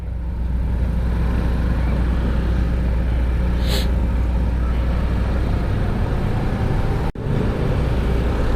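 Monday morning road traffic in Marikina makes a steady, close engine rumble of cars, trucks and buses, with a brief hiss partway through and a sharp knock near the end.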